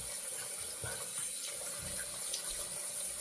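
Tap water runs steadily into a sink while someone rinses their face after a shave, a continuous close hiss and splash with small shifts in flow, no talking.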